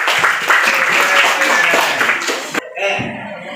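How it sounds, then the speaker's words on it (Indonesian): A classroom of students applauds a new classmate, a dense burst of clapping lasting a few seconds before it breaks off abruptly. "yang lain kita beri aplaus untuk temannya yang baru"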